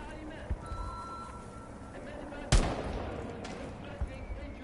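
Fortnite gunfire: a few sharp gunshots, one loud crack midway and fainter shots before and after, over a low ambient game background with a voice occasionally talking.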